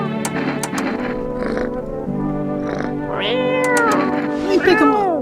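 A cat in the horror game No, I'm not a Human gives several drawn-out, rising and falling meows, close and clear toward the end. A voice talks before them.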